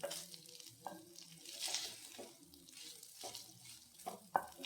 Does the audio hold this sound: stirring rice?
yes